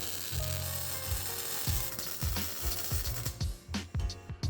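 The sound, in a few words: tack welding panhard bar bracket onto axle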